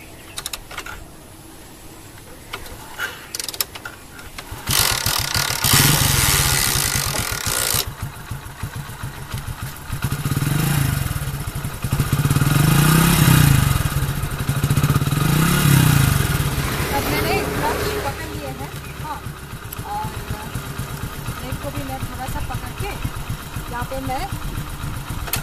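Motorcycle engine starting and idling in neutral during a beginner's riding lesson, a steady low rumble with a few swells as the throttle is blipped, heard close while someone talks over it.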